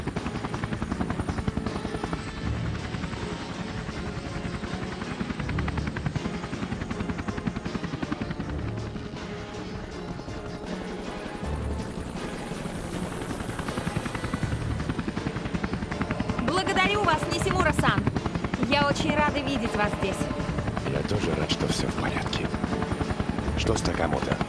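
A helicopter's rotor and engine drone steadily and loudly throughout, waiting outside in the Tomb Raider video game, with a buzzing whine rising near the end over the continuous thrum.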